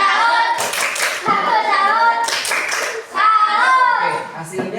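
Classroom of children at an Islamic elementary school doing a rhythmic tepuk salut group clap, bursts of patterned clapping near and loud amid chanting and speaking voices.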